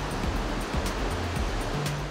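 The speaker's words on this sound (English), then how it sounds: "In the water now, and it's the surf that draws the crowds." Ocean surf rolling in at Mount Maunganui, a New Zealand surfing beach, as a steady broadband wash of breaking waves with no voices over it.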